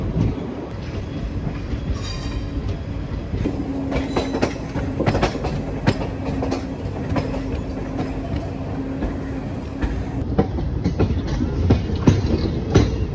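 The Puri–Tirupati Express rolls along the rails in a steady, loud rumble heard from inside a third-AC coach, with rhythmic clickety-clack wheel beats and faint squeal throughout; no voices.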